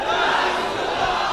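A large crowd chants religious slogans in unison during a Sunni sermon, a loud, dense roar of many voices filling the whole short stretch.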